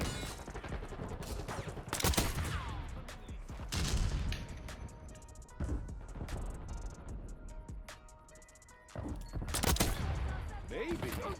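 Kilo 141 assault rifle fire in a shooter video game rattles in repeated loud bursts across the scene, with in-game effects between volleys and a voice talking at times.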